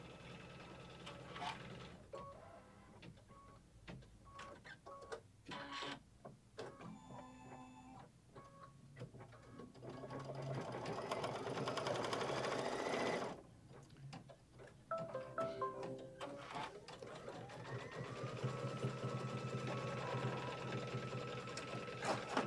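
Embroidery sewing machine stitching out a quilt leaf, rapid mechanical needle ticking and whirring close by, steady for stretches with short pauses and changes in pace, no talk.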